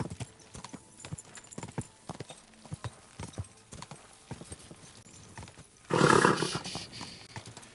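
Horse hooves clip-clopping in the medieval video game Kingdom Come Deliverance 2, a steady walking rhythm of close, crisp hoofbeats, followed near the end by a loud burst of rougher noise.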